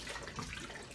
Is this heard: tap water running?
yes